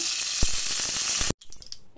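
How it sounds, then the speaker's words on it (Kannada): Hot ghee sizzles steadily as mustard seeds and cumin fry, with a few sharp pops and crackles, close up, then suddenly cuts to quieter background sound. "ಸಾಸಿವೆ ಜೀರಿಗೆ ಒಂಚೂರು ಫ್ರೈ ಆಗ್ತಿದ್ದಂಗೆ"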